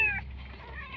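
A pet cat gives a single short meow at the very start, close and fairly loud, followed by a low steady indoor background hum.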